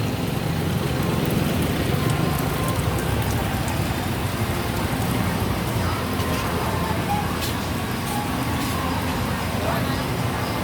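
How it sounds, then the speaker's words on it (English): Rain falls steadily on a rainy morning at a public market in La Libertad, Negros Oriental, Philippines, a constant wash of drops on surfaces with traffic rumbling faintly underneath and people talking. "it is still raining"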